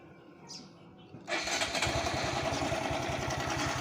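A Honda MSX motorcycle engine catches after a quiet moment and settles into a steady, close, loud idle with an even pulsing throb.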